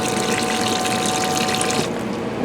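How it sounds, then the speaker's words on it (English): A Thetford cassette toilet in a 2022 Flagstaff MAC 228D tent camper flushes, giving a loud, close, steady rush of pumped water that runs throughout and eases slightly near the end, with no talking. "So you flush the water this way"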